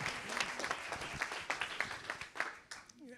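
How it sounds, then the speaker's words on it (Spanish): Applause from an audience at a Madrid press association podcast launch, a scattered patter of claps at moderate distance, fairly soft and irregular. "Un aplauso para Juan."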